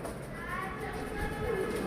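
Pigeon on a rooftop cooing softly amid a steady outdoor background, the low murmuring calls faint and continuous over a short stretch.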